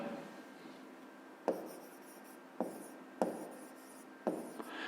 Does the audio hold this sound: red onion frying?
no